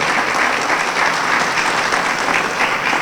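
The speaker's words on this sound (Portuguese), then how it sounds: "Eu aqui pedi uma salva de palmas para este nosso feito" A ceremony crowd applauds a municipal achievement in Ferreira do Zêzere, a dense, steady wash of clapping from many hands, loud and continuous throughout.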